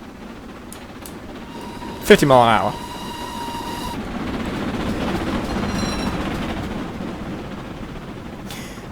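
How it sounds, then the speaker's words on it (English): Castle Class steam locomotive from a London to Brighton train simulator game rushing past with a brief loud burst of exhaust and a whistle-like tone, followed by steady rolling rumble; someone talks over it. "let's have a look at our train as it goes past"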